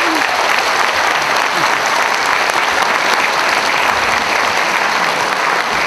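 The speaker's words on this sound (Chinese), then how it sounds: "让我们掌声有请他们。" A concert hall audience at a university choral concert gives sustained, even applause to welcome a choir onto the stage, a loud unbroken wash of clapping throughout.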